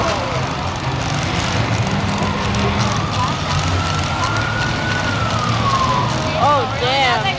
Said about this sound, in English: They got the ambulance.